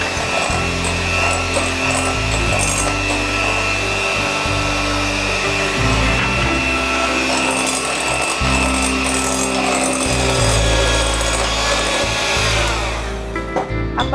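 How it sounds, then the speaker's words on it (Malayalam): A hand mixer beats egg whites as sugar and vanilla essence are added for an ice cream pudding. The motor whines loudly and continuously, with shifting low rumbles as the beaters move through the bowl, then it winds down at the end. "ഇങ്ങനെ ഇടയ്ക്ക് കുറേശ്ശെ ഇട്ടിട്ട് വീണ്ടും ബീറ്റ് ചെയ്യാം."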